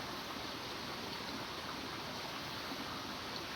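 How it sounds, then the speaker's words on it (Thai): Steady rushing of flowing stream water, continuous and even throughout, with no voices or other sounds. "นอนฟังเสียงน้ำไหลนี่แหละ"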